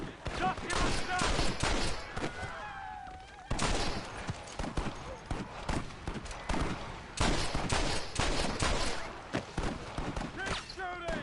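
Loud bursts of gunfire from Red Dead Redemption crack in clustered volleys with short pauses between them, while voices shout over the shooting.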